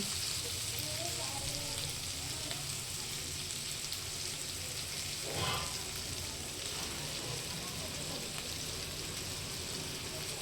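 Hyacinth bean pods (val shenga) frying in a pan with peanut oil, giving a steady soft sizzle throughout and one brief louder crackle midway.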